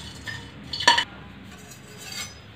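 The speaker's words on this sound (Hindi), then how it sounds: "इनको हल्के से हमें ऐसे घुमा के चलाना है" A utensil stirs whole spices, including cumin seeds, frying in a pan for kadai paneer, with one bright metallic clink and softer scraping, close and alone.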